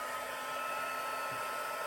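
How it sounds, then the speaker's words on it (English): A craft embossing heat gun blows hot air in a steady, continuous whoosh, close and uninterrupted, during a stamping project drying big dots of ink. "So let me get out my embossing heat gun."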